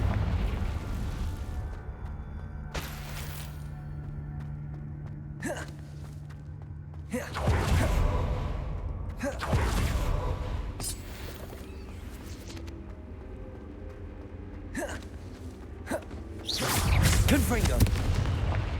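Confringo explosive spell blasts in Hogwarts Legacy erupt as several heavy booms spaced seconds apart, loud and close, amid quieter battle rumble and occasional character vocalizations.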